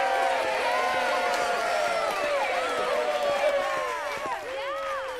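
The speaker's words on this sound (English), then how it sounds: "Give him a big round of applause." Cartoon crowd noise from an animated show's studio audience welcoming a new face, with dense overlapping cheers, whoops and excited voices at steady loudness for several seconds, and scattered clapping mixed underneath.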